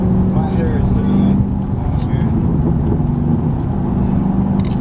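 A 600-horsepower 2013 Cadillac CTS-V drones with a deep, steady engine and exhaust rumble from inside the moving car, loud and continuous, while people talk over it.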